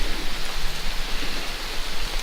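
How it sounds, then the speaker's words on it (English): Heavy rain pours steadily under a stand of hemlocks at a lakeside campsite in the Adirondack Essex Chain Lakes, a dense, continuous hiss of drops on leaves and surfaces with no voices. "and it's pouring."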